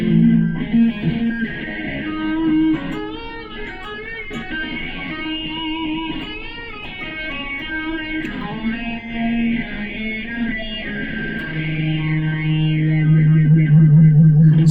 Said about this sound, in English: It's called a vowel filter.